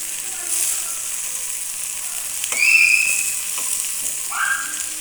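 Ash gourd frying in a pan, a steady close hiss of sizzling oil with a few brief stirring scrapes and short whistly squeaks partway through.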